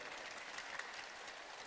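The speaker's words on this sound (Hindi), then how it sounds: "डॉक्टर विवेक गुप्ता के लिए भाई एक बार तो ताली बजा दो" An audience claps together for Dr. Vivek Gupta, a steady, dense wash of applause filling the whole stretch at a moderate level, with no talking over it.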